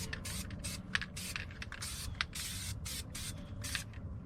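An aerosol can of Blaster Surface Shield sprays in quick repeated bursts onto the brake rotor hub of a 2012 Nissan Rogue 2.5 S, close and hissing over a low background hum, with no talking.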